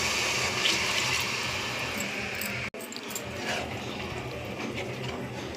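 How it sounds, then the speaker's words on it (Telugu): Water poured into a cooking pot while making a spiced dish with chili powder, salt and coriander powder, a steady continuous splashing pour that runs throughout with a brief break midway. "వాటర్ పోసుకోవాలి."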